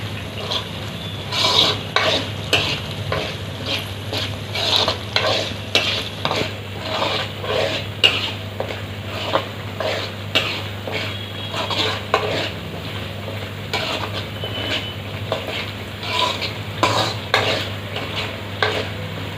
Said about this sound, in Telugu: మధ్య మధ్యలో కలుపుతూ ఉండాలి